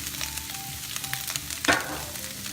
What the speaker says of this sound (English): So, you can throw your onions in there. Throw you some olive oil in here to coat it.